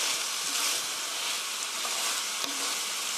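Chopped onion, garlic and carrot stir-fried in a pan for a pork and oyster mushroom dish, giving a loud, steady hiss of sizzling with a few faint scrapes of stirring.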